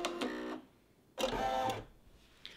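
A Brother PE800 embroidery machine stitching fabric down, giving two bursts of fast, dense mechanical whirring separated by a short pause, close and fairly quiet, with no talking.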